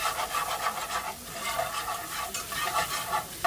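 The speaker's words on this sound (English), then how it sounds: "keep whisking till you get that flour down" A whisk scrapes steadily through flour in a pan for country brown gravy with liver and onions, a close, rhythmic rasping stir that runs on without a break and has no talk.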